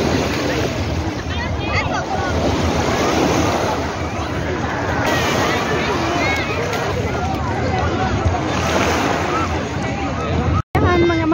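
Surf rolling in continuously at Repulse Bay beach in Hong Kong, a steady broadband wash with wind buffeting the microphone and faint voices mixed in.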